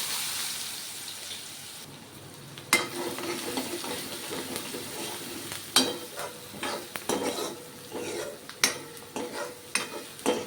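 Chopped onion dropped into hot tempering oil with asafoetida bursts into a loud, close sizzle after a quiet start, followed by repeated stirring scrapes and sharp clinks over continuous hissing.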